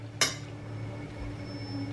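Pots, pans and utensils in a home kitchen during cooking: one sharp metallic clink near the start, then a quiet background hum with faint low rumble.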